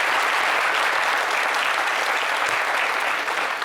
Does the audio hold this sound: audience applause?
yes